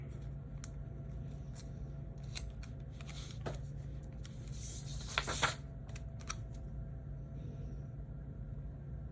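Scissors snip through planner paper in a few quick, close cuts over a low steady background hum, with no one speaking.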